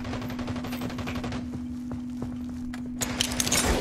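Rapid, closely spaced gunfire rattles through a video game scene, a fast stream of shots that ends in a few louder, sharper cracks.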